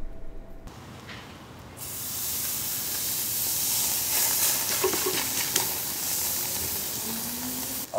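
Fat from a ribeye steak drips into flames and sizzles with a loud, steady hiss that swells in after a quieter start, with faint crackles and pops on top.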